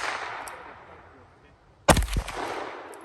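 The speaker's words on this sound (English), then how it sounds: "First shot." A single sharp gunshot, fired one-handed at an apple cider jug target outdoors, cracks loudly after a quiet stretch and trails off in a short echo.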